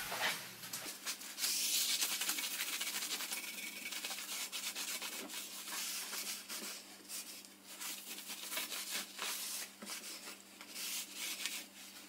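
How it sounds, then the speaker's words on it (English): A rag rubs along the bed of a CJ0618 7x12 metal lathe, wiping off chips and loose abrasive with WD-40. Continuous close scrubbing strokes run on unbroken with no voices. "After all the deburring, the beds need a wipe down with WD-40 to remove the chips and any loose abrasive"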